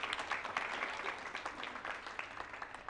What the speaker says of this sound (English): round of applause to our winning green ball team